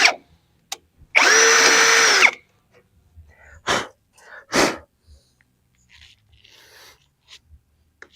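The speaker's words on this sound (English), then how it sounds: "Now I'm going to drill myself a hole through my nice, freshly painted fender." A power drill whirs in one steady burst of about a second as it bores through a freshly painted car fender, followed by scattered clicks and handling noises in a quiet workshop.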